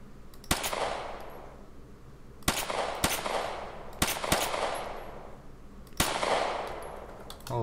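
Gunshots in Arma 3, five sharp single cracks spaced a second or two apart, each trailing into a long rolling echo across open ground over a quiet steady background.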